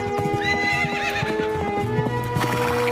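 An Arabian horse whinnies loudly up close while its hooves clip-clop steadily underneath.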